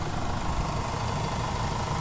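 A 2008 Jeep Cherokee engine idles steadily up close, a continuous low mechanical rumble with a faint rattle and vibration, no speech over it.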